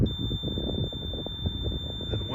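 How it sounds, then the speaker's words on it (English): A continuous high-pitched electronic alarm tone from a drone detector, a Remote ID receiver at moderate alert level, sounds steadily throughout, with low rumbling handling noise underneath. "We're at a moderate alert level, so the alarm will stay on for a little longer."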